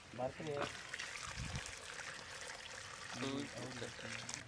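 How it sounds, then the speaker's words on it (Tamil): Water pours steadily in a continuous splashing stream into a pot of cow's tail soup, while people talk over it. "சூப்புக்கு தேவையான அளவு தண்ணி நம்ம இப்போ சேர்த்துக்க போகிறோம்"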